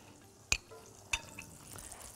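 Quiet stirring of onions and artichokes with dill and parsley in a pan, with two sharp utensil taps against the pan and a faint later scrape, otherwise near silence.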